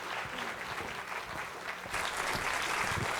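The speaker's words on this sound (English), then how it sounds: "If you would please give her a big round of applause for her presentation." An audience at an Alzheimer's talk gives a presenter a round of applause, steady crowd clapping that swells louder partway through, with no speech over it.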